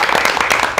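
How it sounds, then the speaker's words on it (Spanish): Audience applause for Hipólito Mejía at his residence in San Cristóbal, a brief burst of dense, steady clapping. "Un aplauso para Hipólito Mejía."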